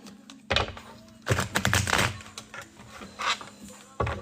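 Tarot cards being shuffled by hand during a reading, giving bursts of papery riffling and soft card slaps in irregular clusters, close and fairly quiet, with no talk.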